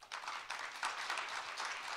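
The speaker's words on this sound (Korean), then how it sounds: "세 분의 발표자께 다시 한번 큰 박수를 부탁드리겠습니다." Audience applause for presenters at a Korean conference, a steady wash of many hands clapping at moderate, fairly distant level with no one speaking.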